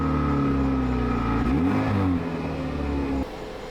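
A car engine turns over and catches, revving briefly with a rising and falling pitch before settling into a steady idle that quiets at the end.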